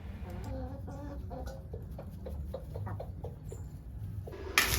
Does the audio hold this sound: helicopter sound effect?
no